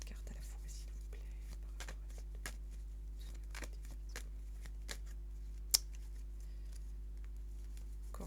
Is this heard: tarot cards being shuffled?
yes